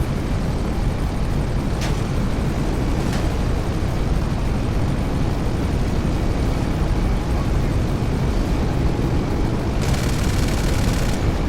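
Continuous loud engine roar from a Tula aircraft in GTA Online, a steady airborne drone with brief bursts on top and no speech.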